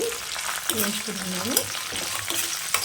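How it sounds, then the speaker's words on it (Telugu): Cashews and raisins frying in a pan for jaggery rice, a steady close sizzle with small stirring scrapes, continuing alone without talk. "తర్వాత కాజు 1 కప్పు వేస్తున్నానండి. ఇలా వేసాక ఇలా వేయించుకుంటున్నాను."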